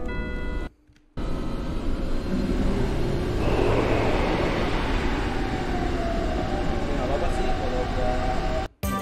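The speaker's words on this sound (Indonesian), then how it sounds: "Nah, kita butuh naik kereta ini buat pergi ke Gold Soldier." Train ride in Final Fantasy VII, a continuous rumbling rail drone with rhythmic low clatter, loud and steady for most of the stretch, broken by short silent gaps near the start and end.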